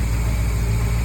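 A 454 Crusader boat engine, port side, idles steadily and close at about 900 RPM, a low rhythmic rumble with a constant throbbing pulse and no voices.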